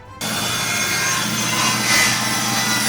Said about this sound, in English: I ripped a piece of plywood 3/4 inch thick to 2 inches